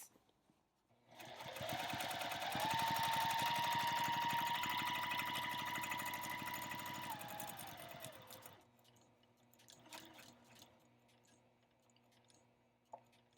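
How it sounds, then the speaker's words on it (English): A sewing machine runs steadily, stitching binding right to the edge of a quilt; one continuous motorized whir lasts several seconds, then stops, leaving faint handling noises. "I'm going to sew right to the very edge of this"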